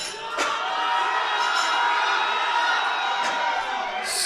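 A powerlifting meet crowd cheers and whoops steadily after a competitor's deadlift opener. Scattered shouts rise above a sustained roar, and a voice is faintly heard underneath.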